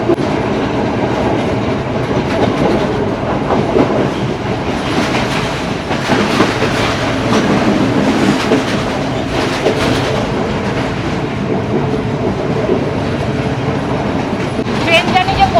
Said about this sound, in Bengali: আমাদের এই ট্রেনটা অনেক স্টেশনেই দাঁড়াবে না।